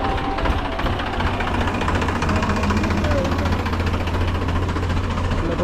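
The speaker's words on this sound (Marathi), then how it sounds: "ट्रॅक्टर मधून येतो आपल्या वाडीचा गणपती" A tractor carries a Ganpati idol in a Kolhapur Ganesh festival arrival procession, its engine a steady low idling rumble under dense, constant broadband noise that stays loud throughout, with voices mixed in.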